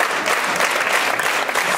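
A concert audience at a festival gala claps steadily, dense loud applause filling the space without a break.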